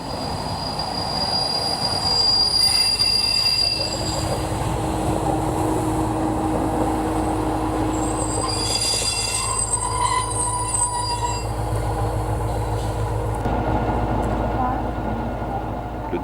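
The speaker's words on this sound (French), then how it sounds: "Le démarrage des 2800 au bruit si caractéristique donne toujours une indéniable sensation de puissance et de souplesse." An X2800 diesel railcar set, two power cars with two trailers, pulls through a station with a steady diesel rumble and rolling wheels, high wheel squeals rising and fading, and a voice talking partway through.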